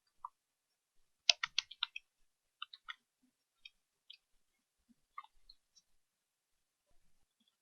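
Computer mouse clicks in the Unity game editor, a cluster of quick close taps followed by a few scattered single clicks, quiet and without talk.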